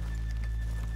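Horses in the Red Dead Redemption 2 video game, soft hoof clip-clops over a steady low hum, brief and fairly quiet.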